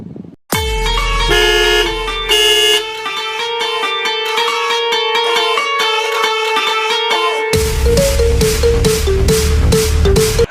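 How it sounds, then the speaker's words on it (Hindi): A car horn honks in long sustained blasts followed by a rapid series of short toots from a speeding car approaching, loud and near, with no talk. "अरे इतनी तेज स्पीड में कार चलाते हुए कौन आ रहा है बेवकूफ़ कहीं का।"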